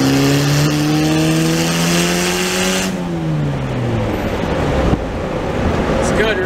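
A turbocharged Honda car accelerating hard under boost, its engine note climbing loud and close before a sharp lift-off about halfway through leaves a rushing, hissing settle.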